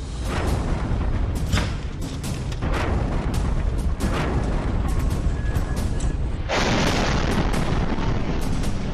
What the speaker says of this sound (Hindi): लगातार धमाके हो रहे हैं सुबह से।